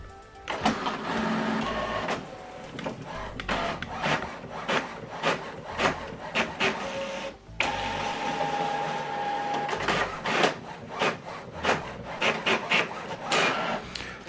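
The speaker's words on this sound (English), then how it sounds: "So this document now is printing." An office printer runs a double-sided print job, with a steady mechanical whir broken by repeated clicks, paper-feed rubs and flipping sounds as the sheet is turned, close and fairly loud throughout.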